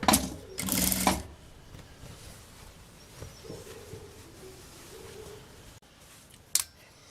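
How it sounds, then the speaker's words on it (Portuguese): A sewing machine stitches fabric pieces for a women's backpack, with a loud burst of running needle noise at the start, then a quiet hum and a few small clicks and handling sounds with no talk. "Acerto bem aqui e passo uma costurinha."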